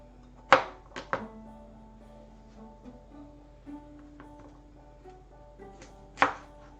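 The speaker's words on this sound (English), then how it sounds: "chopping it up" A knife chops through food on a board in a few sharp, scattered strikes, two close together near the start and one near the end, with faint background tones between and no talk.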